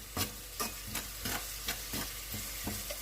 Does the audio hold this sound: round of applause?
no